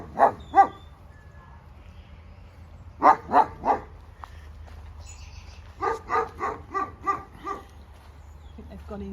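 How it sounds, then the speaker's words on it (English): A dog at the Wales Ape & Monkey Sanctuary near Brecon barks nearby in short bursts, first a pair, then three, then a rapid run of five or six, with quiet pauses between. "he likes a good bark."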